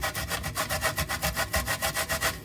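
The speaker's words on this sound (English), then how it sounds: "you have to be grating your coconut, and this takes time" Coconut is grated by hand on a very sharp grater, giving a quick, even run of rasping strokes, close and loud, with no voices.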